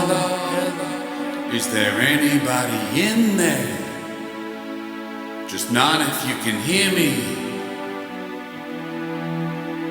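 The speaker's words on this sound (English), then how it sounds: "it's a 700 millisecond delay" A sung vocal line from a song carries a long 700 millisecond delay, each phrase trailing into softer repeating echoes over a sustained backing, the voice up front and clear.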